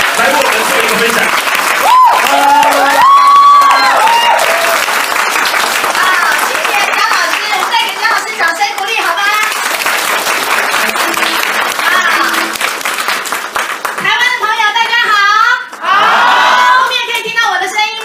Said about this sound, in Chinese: 我们以热烈的掌声欢迎李邦彦来为我们做一个分享